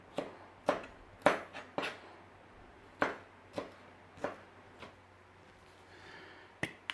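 A knife chops jalapeno into little cubes on a cutting board, giving sharp, close, irregular knocks, about a dozen over several seconds, with short pauses between bursts.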